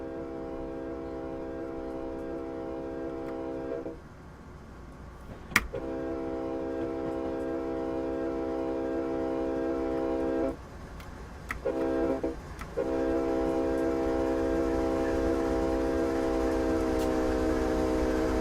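Freight train in Train Simulator 2017 sounding long sustained horn blasts as it approaches an unguarded grade crossing with no lights or bell, loud blasts with brief gaps between them, over steady rolling rumble.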